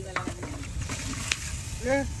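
Duck curry sizzles while being stirred in a cooking pot at an outdoor cookout beside a wetland, with scraping clatters and a brief tonal squeak near the end; steady and close, no talking.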